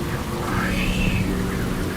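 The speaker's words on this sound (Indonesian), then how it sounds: "Lalu turunlah segera hujan yang sangat deras sekali ke atas bumi" Heavy downpour rendered as a sound effect in a told story, a steady rushing hiss of rain with a faint low rumble, moderately loud and continuous, with a brief rising whoosh in the middle.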